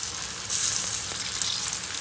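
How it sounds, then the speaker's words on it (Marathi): Alu vadi, rolled colocasia leaves, frying in hot oil in a pan, giving a steady bright sizzle that swells a little louder partway through and then stops abruptly. "आता मी अळूवडी फ्राय करून घेणार आहे।"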